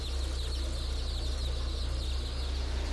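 Many chicks peep steadily at a factory hatchery sorting conveyor, a dense continuous chorus over the low, constant hum of machinery.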